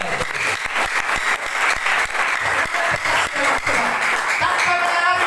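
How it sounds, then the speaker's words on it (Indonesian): A church congregation at a sermon breaks into loud, dense applause that carries on throughout, with a few cheers mixed into the clapping. "Beri tepuk tangan."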